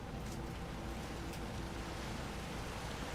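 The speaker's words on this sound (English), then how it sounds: "I was wondering what I was hearing, and then I realized it's still just the waterfall out there" A waterfall outside roars as a steady, broad wash of rushing water, constant and even in loudness from start to end. It is faint and distant, with no voices.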